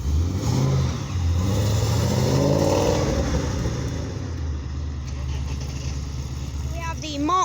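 At a classic car meet at a pub, a Mk1 Mazda MX-5 and a VW Corrado 16V rev and pull away. Their engines rise and then fade into the distance while people talk nearby.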